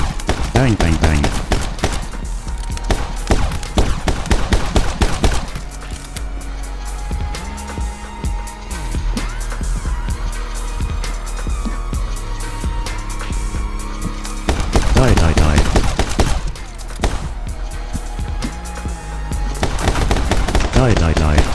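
Rapid gunfire from a tiny gun in the My Friend Pedro video game, dense bursts of sharp repeated shots in fast rhythm, loud and close, pausing midway under game music before resuming.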